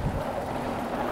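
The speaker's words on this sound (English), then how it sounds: "It's quite windy" Steady wind roars across a mountain bike trail at the top of a downhill run, a broad continuous rush with no breaks, close and fairly loud.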